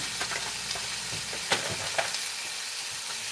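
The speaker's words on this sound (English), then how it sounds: "You can hear that sizzling." Meat for a meat sauce sizzles steadily in a hot frying pan, a constant hiss with a few sharper pops and crackles.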